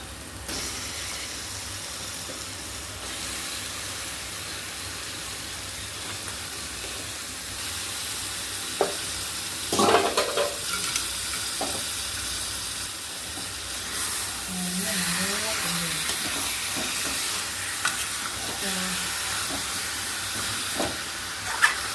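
Village-style spicy chicken curry frying and being stirred in a pan, a steady broad sizzle throughout with scattered scraping and clattering strokes of the spoon in the middle stretch, no voices.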